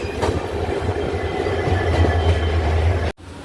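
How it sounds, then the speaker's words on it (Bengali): A passing train rumbles close by, a loud steady roar with rail clatter, cut off abruptly near the end, heard from aboard the Howrah–Bolpur Shantiniketan Express at Ghushkara station as the Balurghat–Kolkata Tebhaga Express crosses. "আর এই হচ্ছে বালুরঘাট কলকাতা তেভাগা এক্সপ্রেস ক্রস করছি।"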